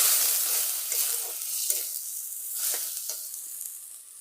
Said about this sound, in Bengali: ফেটানো দই দিয়ে দিচ্ছি দরকার করলে একটু জলও দিয়ে দেবো